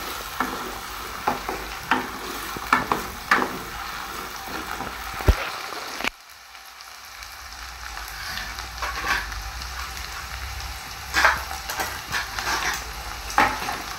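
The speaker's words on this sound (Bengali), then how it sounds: "আলুটাকে ভেজে নিচ্ছি, ভেজে নেওয়ার পরে তুলে নেবো।" Potatoes sizzle steadily in hot oil in a pan while a utensil stirs and scrapes them in a few clattering strokes, close and fairly loud, with a brief pause in the frying midway.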